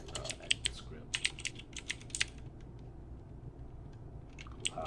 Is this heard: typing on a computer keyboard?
yes